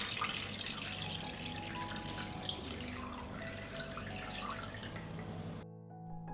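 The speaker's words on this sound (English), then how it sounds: "I pour water into the pan, up to the height of the lid." Water pours steadily from a tap into a pot holding glass jars of tomato and cucumber salad. The flow is close, bubbling and continuous, then cuts off abruptly near the end. No one talks.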